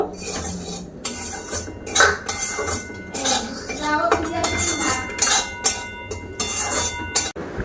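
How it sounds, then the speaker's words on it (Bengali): Semolina and flour are dry-roasted in an empty wok, with a utensil repeatedly scraping and clattering against the metal in uneven bursts and only faint background noise. "এগুলো একটু খালি কড়াইতে দিয়ে ভাজা করে নেব"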